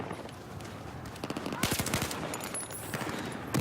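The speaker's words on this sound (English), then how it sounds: "Big nade just got out of there in time" Grenade blasts in an Xbox One 5v5 Domination match, several loud bursts of explosion and gunfire crowding together over steady game noise, the heaviest cluster near the middle.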